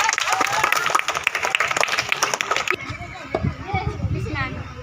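A group of schoolchildren claps for their team finishing first in a game at a school Saturday event, a brisk, loud burst of many small hands that cuts off abruptly, leaving children's chatter and shouts in a busy room.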